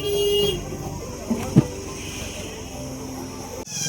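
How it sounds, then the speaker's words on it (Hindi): A vehicle horn gives a short toot at the start of a road trip from Delhi to Firozabad, then the noise of the road continues underneath while voices talk in the background. "हॉर्न दे रहे हैं 1-2"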